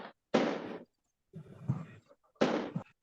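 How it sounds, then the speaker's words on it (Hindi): Firecrackers bursting outdoors sound as three separate loud, crackling bursts of half a second or so, spaced by short silences, fairly close and sharp. "बहुत शोर होने लगा, बहुत पटाखा चारों ओर फूटने लगा"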